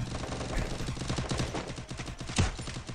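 Gunfire in the Free Fire battle royale game, rapid continuous bursts of automatic shots rattling close and loud throughout, with one heavier blast near the end.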